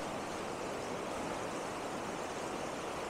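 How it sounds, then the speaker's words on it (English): A river in spate after heavy rains gives a constant, even rushing roar, moderately faint and unbroken, with no one speaking. "I hope you can hear me over the river okay."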